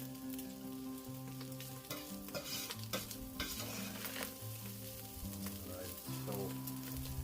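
Onions and garlic sizzle and are stirred in a pan for a bolognese sauce, a steady frying hiss with scraping stir strokes, over sustained tonal music throughout.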